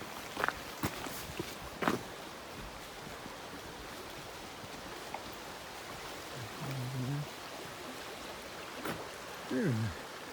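A river rushes beside a pathway in the Jordan Valley with a constant broadband roar. A few faint footsteps and brief snatches of voice sit on top of it.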